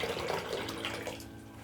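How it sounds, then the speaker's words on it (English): Water from a tap runs into a bowl for potato wedges in a home kitchen, a steady close splashing stream that fades slightly toward the end. "I'm going to add some water in my bowl"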